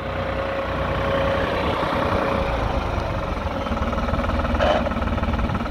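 New Holland TT55B tractor engine running steadily while chopping silage, a loud, close, low diesel drone with even rumble and a brief higher-pitched whine near the end.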